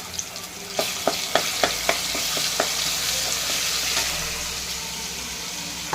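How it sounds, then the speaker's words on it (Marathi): Ginger garlic paste hitting hot oil in a pan for fish curry, a loud hissing sizzle with a quick run of sharp spatula taps and clacks early on, then continuous frying noise, no talk. "चला आधी आलं लसूणची पेस्ट टाकूया"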